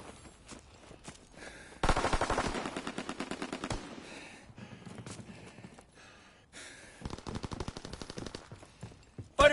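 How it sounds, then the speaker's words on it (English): Strafing gunfire from a fighter plane in a PS4 war video game: bursts of rapid machine-gun fire in several separate volleys, loud and close, with brief gaps between them. "Fighter pilot inbound. Strafing the target."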